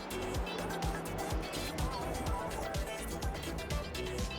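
TCR touring cars racing at Brands Hatch in a sim racing game: a steady, loud engine drone with repeated rising gear-shift sweeps, heard beneath a commentator's talk.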